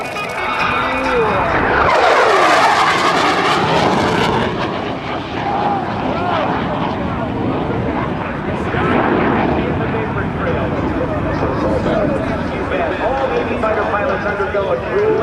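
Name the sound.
F/A-18C Hornet jet high-speed pass at airshow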